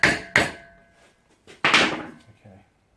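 A hammer strikes a corroded AC compressor being taken apart, landing two quick pairs of sharp, ringing metallic blows close up, followed by a faint knock.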